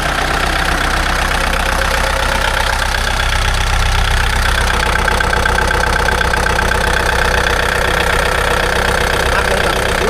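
A Kubota L4708 tractor's diesel engine idles steadily and loudly up close, a continuous low knocking rumble with an even, unchanging rhythm and no talking.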